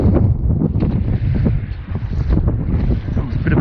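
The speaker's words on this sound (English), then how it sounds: "A bit of a gust came in then" Strong wind roars and buffets the microphone aboard a sailboat at sea, a loud, steady rush with surging gusts and the wash of water beneath.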